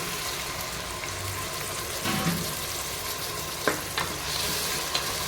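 Cut tomatoes sauté in a pot for tomato biryani, a steady close sizzle with occasional scraping stirs and a few clinks of a utensil.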